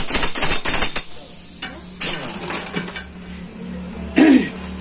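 A power tool tightens a clutch bolt on a Splendor Plus 100cc motorcycle, giving short metallic rattling bursts and clinks of hardware in a workshop, with a few separate impacts spread across the clip.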